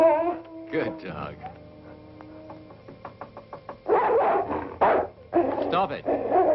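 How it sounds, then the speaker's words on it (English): A dog in an old werewolf horror film whines and yips in short, high, tonal cries with a few sharp barks, followed by bursts of close talking over a low background hum. "Good dog."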